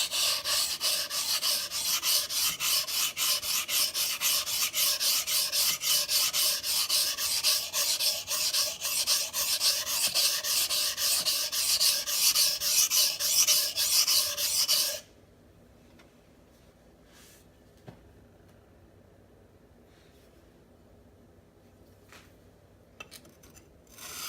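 A knife is drawn across a coarse Shapton Glass whetstone in steady, rapid rasping strokes, loud and close for about fifteen seconds, then stops, leaving near silence with a few faint clicks.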